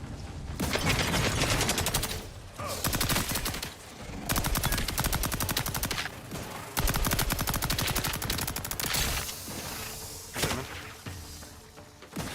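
A weapon fires in The Outer Worlds 2 in loud, sustained rapid bursts, broken by short pauses, running almost the whole time with no speech over it.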